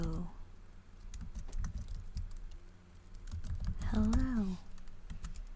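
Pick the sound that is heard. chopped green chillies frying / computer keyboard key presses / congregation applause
computer keyboard key presses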